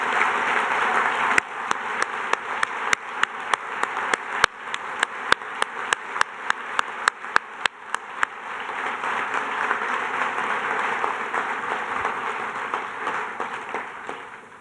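Audience applauding at a ceremony of the Guadalajara International Book Fair (FIL), a dense sustained round of clapping with sharp individual claps standing out, lasting well over ten seconds before easing.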